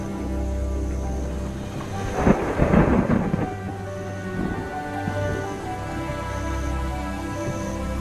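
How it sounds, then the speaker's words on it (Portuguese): A thunderstorm brings steady rain hiss and a deep roll of thunder that swells in the middle and then fades back into the downpour. "As chuvas molham"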